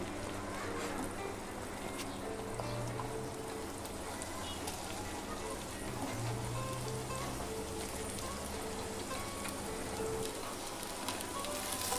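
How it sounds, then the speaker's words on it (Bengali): Potatoes frying in oil in a pan for a vegetarian jackfruit dish, giving a dense, steady crackling sizzle that holds evenly and fairly loud for the whole stretch, with no talking. "এবার আমি তেল দিয়ে আলুগুলো একইভাবে ভেজে নেব"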